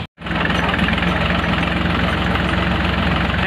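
A tractor engine runs at a steady, loud idle with an even low rumble and slight knock, continuous after a brief silence at the start.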